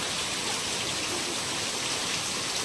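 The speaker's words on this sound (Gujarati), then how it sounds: "વરસાદ ચાલુ રહી છે સવારમાં" Steady rain falling, a dense even hiss of drops pattering on surfaces throughout, with no voices.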